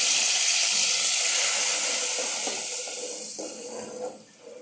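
Spice paste mixed with salt hits hot oil for a fish curry, a loud broad sizzle and hiss that starts strong and slowly fades and softens over a few seconds, with no talking.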